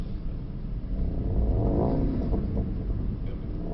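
Mercedes-AMG GT63 Pro engine revving hard under acceleration on a race track, a loud continuous rumbling roar that swells midway and holds steady with no talk over it.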